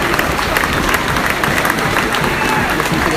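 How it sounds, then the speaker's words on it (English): A football crowd celebrates a home win for Yeovil, with dense, continuous cheering and applause filling the air at steady loudness, and voices shouting within the roar. "Listen to the crowd, they all sound pretty happy"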